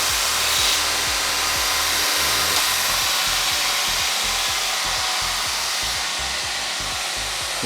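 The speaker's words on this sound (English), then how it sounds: "Now when you're using the linisher to do that, this belt's just about worn out" A belt linisher with a nearly worn-out belt grinds metal in a motocross workshop, a loud, close, continuous rushing whir with a rough, rhythmic chatter underneath and no talk.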